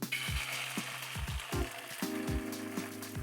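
Eggs fry in a little oil in a non-stick pan with a steady, soft crackling sizzle, dotted with small pops and low thumps, close up and with no one talking.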